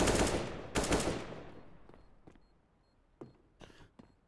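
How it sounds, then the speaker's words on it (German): Gunfire in Counter-Strike on the Mirage map during an ESL competitive match: two loud bursts of shots open the passage, then decaying echoes give way to a few sparser, quieter shots. "Assa wagt sich vor und kriegt sofort den Schuss."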